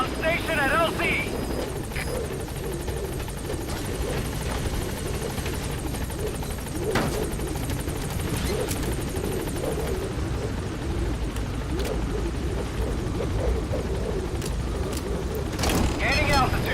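The Pequod helicopter in Metal Gear Solid V drones with a constant loud rotor and engine roar, mixed with game sound effects and spoken radio chatter over it.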